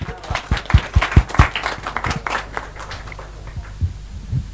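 Applause at a celebrity song launch event, with sharp, distinct claps loud at the start that thin out and fade to scattered faint claps, with voices around.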